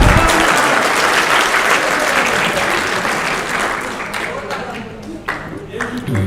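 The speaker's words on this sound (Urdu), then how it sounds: "ان کی کمپیرنگ کے لیے تالیاں ذرا ہو جائیں" Loud audience applause at a speech event, dense clapping from a crowd that gradually thins and fades toward the end, leaving a few scattered claps.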